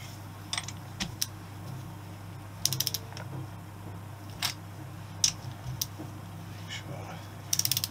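A ratchet snugs down bolts on a Honda XL250S engine during restoration, with short bursts of sharp clicking spread across the clip over a low steady hum.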